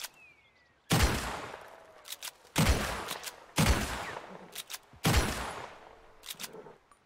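Volcanic rifle in Red Dead Redemption 2 fires four loud, booming shots spaced roughly a second and a half apart, each ringing out in a long reverberant tail, with faint clicks between them.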